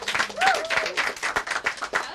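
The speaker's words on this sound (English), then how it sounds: "A big round of applause for Tammy." Audience at a magic show at the Magic Castle welcomes a volunteer onstage with clapping and cheering, a steady wash of applause mixed with excited voices and a whoop.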